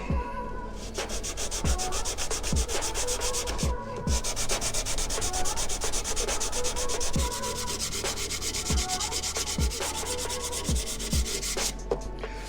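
Walnut dovetail box parts being smooth sanded by hand, a steady close rasping rub with repeated back-and-forth strokes and small knocks, continuing with only brief pauses.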